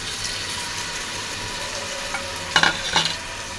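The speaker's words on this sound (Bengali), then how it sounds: "মাছগুলা খুবই ভালোভাবে নাড়াচাড়া করে হালকা হাতে মাছগুলা ভেজে নিতে হবে।" Shrimp fry in oil in a frying pan with a steady, close sizzle, broken by a couple of louder scraping bursts as they are stirred.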